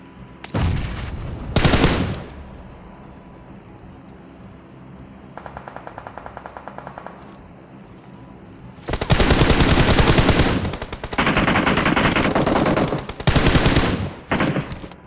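Gunfire in PUBG Mobile: loud bursts of rapid automatic fire, with a quieter rattle of shots in the middle and long heavy volleys toward the end, separated by short lulls, with no voices.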